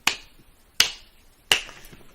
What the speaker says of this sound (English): Ask everybody to clap with you.